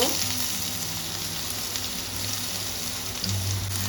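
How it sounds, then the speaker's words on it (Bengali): Chopped garlic sizzles and crackles steadily in oil in a pan, a dense, continuous frying hiss that runs the whole time with no voices. "রসুনটা একটু ভেজে নেব"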